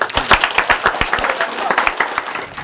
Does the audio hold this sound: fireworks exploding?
no